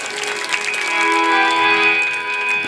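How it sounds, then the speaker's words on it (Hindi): Audience clapping at a devotional katha discourse, a steady broadband patter of many hands that swells and holds at moderate loudness for a few seconds, with no talk over it. "और एक बार खुद के लिए आप लोग जोरदार ताली बजा लीजिए, खुद के लिए।"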